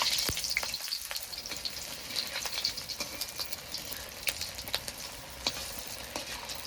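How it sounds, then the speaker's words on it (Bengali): Steady crackling sizzle of sago and potato fritters deep frying in hot oil, with scattered louder pops and a few faint clinks, no voices. "সাবুর বড়াগুলো ভাজা হয়ে গেছে"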